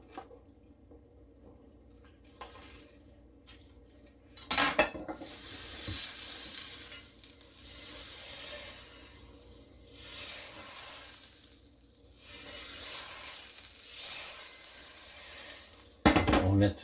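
A knob of butter drops into a fairly hot pan, kicking up a loud sizzle with a sharp burst at the start and another near the end, then a steady crackling frying hiss in between, soon to be joined by veal shanks.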